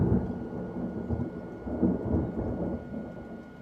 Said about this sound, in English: That one, that's called Thunder.